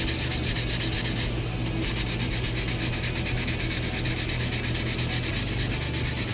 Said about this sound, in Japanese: 表面をきれいにペーパーでならしていくという感じ